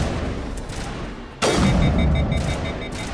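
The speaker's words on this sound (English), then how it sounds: "that sniper rifle is insane" A single sharp sniper rifle shot in the sci-fi shooter Mass Effect cracks out midway, followed by a sustained loud rumble and small repeating electronic beeps.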